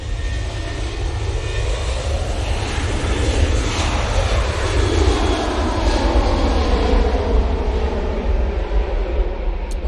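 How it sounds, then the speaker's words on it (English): Boeing 737-800 jet engines spool up for takeoff at Manchester Airport, a loud, steady roar with rising whine held for the whole stretch, close and continuous with no talk over it. "Off to Cork on this 737-800."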